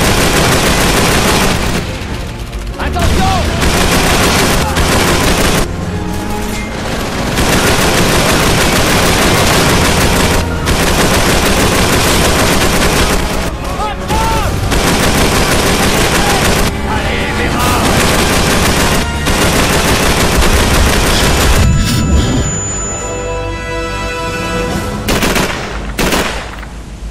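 Call of Duty 3 battle at a fuel depot, with sustained loud machine gun bursts and dense gunfire and explosions almost without pause, a brief lull near the middle, then more firing toward the end.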